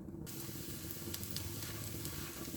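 Poppy seeds dry-roast in a pan for dry fruit laddu, giving a steady, soft, dense hiss and crackle throughout, close and faint, with no voices.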